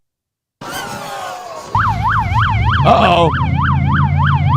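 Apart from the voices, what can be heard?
police car siren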